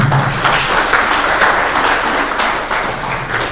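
Conference audience at an SME conference and expo applauding, steady continuous clapping throughout, close and fairly loud.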